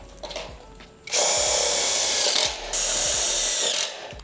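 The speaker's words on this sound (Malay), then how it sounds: "untuk bagi betul secure tepi-tepi ni pun saya akan skru juga" Power drill driving screws into the edges of a bracket, two loud close whirring bursts separated by a short pause, with light knocks and handling before the first burst.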